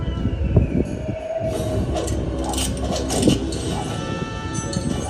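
A Warner Bros. studio tour tram in Hollywood rolls along with rumbling wheels, metallic clatter and occasional high squeals, heard from on board at moderate volume.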